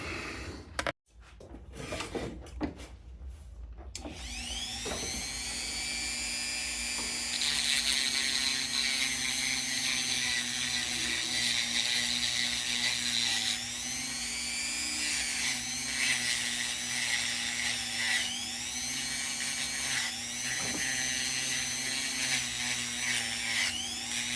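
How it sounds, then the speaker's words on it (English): Dremel rotary tool grinding and smoothing metal on Belden No. 7505 battery terminal pliers, a steady high-pitched whine running continuously near the mic, with a few short drops in pitch as it bears on the metal. "So we're gonna get the Dremel out and see if we can't do a little metal smoothing and go from there."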